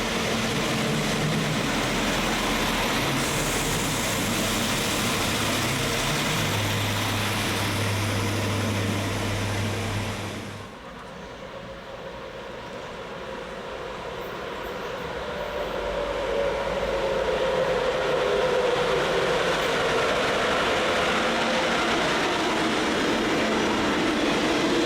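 A Hessische Landesbahn diesel multiple unit runs on the single-track mainline west of Fulda toward Gießen. It rumbles past loud and close with a low engine drone, the sound dips briefly, then the train rolls on steadily.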